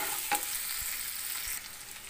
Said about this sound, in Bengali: এবার দিয়ে দেবো পেঁয়াজ কুচি, এগুলো হালকা করে ফ্রাই করে নেব